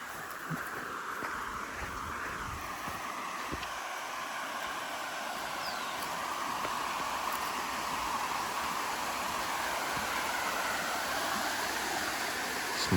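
Steady rushing water from a spot just below, a continuous broadband flow like a stream or small waterfall, moderately loud and unbroken throughout with no talking.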